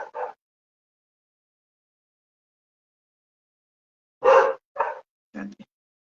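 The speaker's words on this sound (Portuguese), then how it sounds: "Minha cachorra está latindo, está me atrapalhando." A dog barks a few times, one short yelp at the start, then after a long silence three close, sharp barks in quick succession.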